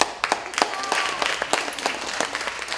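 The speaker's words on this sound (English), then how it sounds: "Let's give her a huge round of applause." An audience at a beauty pageant training session breaks into applause, a lively stream of clapping with distinct individual claps standing out, continuing for a few seconds with a little voice underneath.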